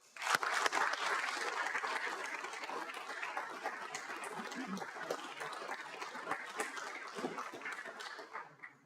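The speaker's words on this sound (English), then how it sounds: "Just give them another round of applause." A council meeting audience gives a sustained round of applause, dense steady clapping from many people lasting several seconds, moderately distant with faint voices underneath before it tapers off.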